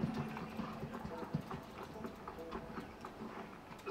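Horse hooves clip-clop in Red Dead Redemption, a steady run of soft, evenly spaced hoof falls at moderate distance, heard alone and fairly quiet.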